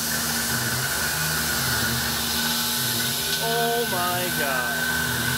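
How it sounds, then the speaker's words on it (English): Tormach 770 mill spindle cutting steadily with a Lakeshore Carbide TAS rougher, a loud continuous whine and grind with shifting tones under the load, while a person exclaims briefly over it. "So the spindle definitely loading down."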